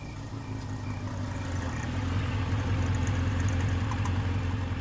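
An auto rickshaw engine idles nearby with a steady low rumbling putter and light mechanical clatter, growing slightly louder partway through, and no voices.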